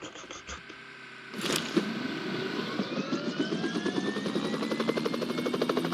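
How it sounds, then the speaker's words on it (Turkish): Helicopter in the mobile battle royale game PUBG Mobile, its rotor starting up with a rising whine and a quickening rhythmic chop that grows steady and loud after a brief click. "hemen şu helikopteri alıp gideceğim."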